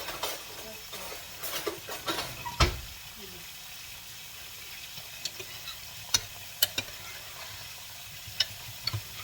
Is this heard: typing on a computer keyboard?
no